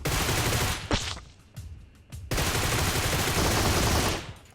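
Rapid automatic gunfire in a shooter video game rattles out in loud sustained bursts, one brief and one long, separated by a short quieter gap with a few isolated shots.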